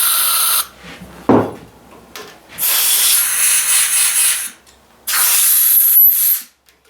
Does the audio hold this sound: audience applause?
no